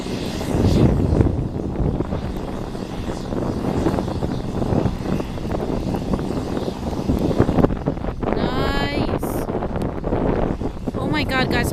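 A jet airplane's engine roars steadily as a broad, continuous rush in rainy weather, with wind buffeting the microphone and a brief voice near the end.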